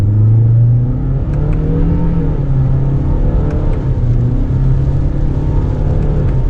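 A 2026 Toyota Corolla SE hatchback with a new engine revs up from inside the cabin in sport mode. Its droning engine note climbs in pitch, then drops at each manual-mode eCVT shift, repeating several times.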